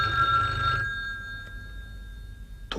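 A telephone rings in a Pakistani drama scene with a bright, high electronic trill lasting under a second, followed by a quiet pause and the start of another ring at the end.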